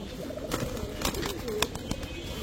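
A male Boil pigeon coos softly in a few low, rolling calls, close and fairly faint, with sharp clicks and a busy background but no clear speech.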